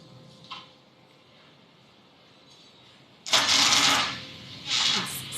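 Falcon 9 rocket engines roaring after liftoff from Vandenberg Space Force Base, heard as a faint distant rumble that suddenly swells into a loud, broad, crackling roar, dipping briefly before surging again.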